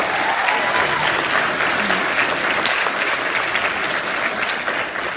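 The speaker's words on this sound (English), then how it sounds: "let's give her a round of applause." An audience at a school event celebrating state champion cheerleaders gives a sustained, even round of applause for the cheerleading advisor, broad crowd clapping with faint voices mixed in.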